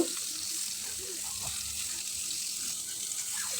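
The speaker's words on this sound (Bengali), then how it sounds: "তেল গরম হয়ে গেছে এখন আমি মাছগুলো বেজে নিব" Constant hot-oil sizzling crackles and hisses steadily as koi fish fry in a pan, with faint scraping and a voice murmuring in the background.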